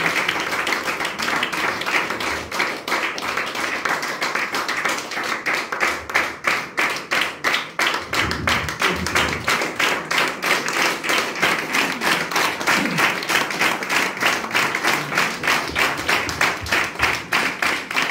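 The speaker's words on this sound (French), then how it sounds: "On peut applaudir aussi Frédéric Galland et Kevin Rowe." Audience applause after a French poetry reading about liberty, dense clapping that grows into sharp, rhythmic unison claps, loud and sustained with no talk over it.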